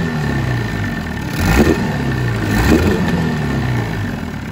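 A Johnson 25 two-stroke outboard motor with a carburettor conversion runs steadily close by, its rough, low chugging loping as it rises in two brief surges when revved, then settling back to idle.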